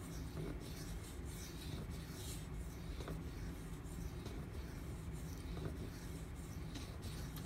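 An H1 steel knife stroked steadily along a Nubatama Ume 8k whetstone, a continuous close, even scraping hiss with faint repeated strokes, no voices.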